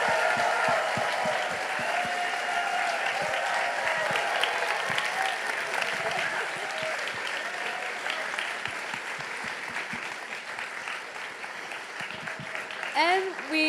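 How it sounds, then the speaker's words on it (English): A large audience at a New York creative-industry event gives a big round of applause, with steady, dense clapping and cheering that fills nearly fourteen seconds and slowly thins toward the end. "Round of applause."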